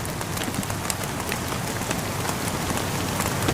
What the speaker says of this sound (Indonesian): seperti suara rintikan hujan.